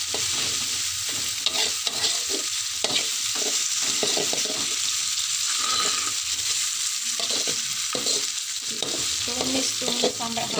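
Oyster mushrooms and tempeh aromatics being stir-fried in a pan crackle with a steady sizzle, broken by repeated scraping stirs of a utensil in a loose, irregular rhythm, close and moderately loud, with no voices.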